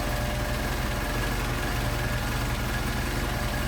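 Mercedes 190SL engine idling on Solex 44PHH carburetors while the idle is tuned, a steady, unbroken mechanical hum held at an even level throughout.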